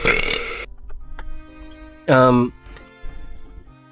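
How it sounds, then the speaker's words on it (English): A single loud, throaty burp lasting about half a second, preceded and followed by quiet room noise and faint clicks, with a person talking briefly at the start. "sorry, I got a burp."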